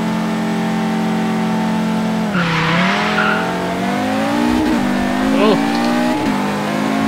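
Forza Horizon 3 street race in a drag meet with an RS2 and Volvo S60, engines droning steadily and revving up, tires squealing briefly, loud and close.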